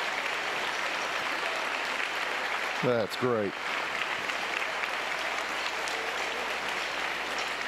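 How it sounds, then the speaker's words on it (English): A crowd at a boys high school basketball game gives a standing ovation, with sustained, dense applause filling the gym from start to finish while a voice briefly speaks over it. "He's getting a standing ovation from the crowd."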